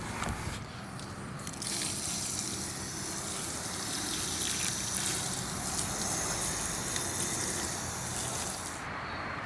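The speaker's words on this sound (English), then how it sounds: "we'll add some water in there because this is a quick setting concrete" Water pouring and splashing into quick-setting concrete mix in a bucket, a steady close wet rush and trickle running almost the whole time without talk.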